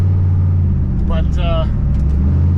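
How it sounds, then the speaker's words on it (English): A 1973 Pontiac Ventura with a turbo kit idles with a loud, heavy rumble inside the car, and a brief throttle blip briefly lifts the engine note while someone talks over it. "We hit 0 on the boost and a little throttle blip there."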